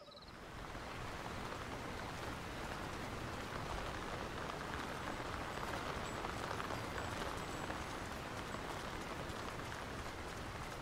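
Constant rain falls over a town in The Lord of the Rings: War in the North video game, a dense, even roar of drops that holds steady without pause.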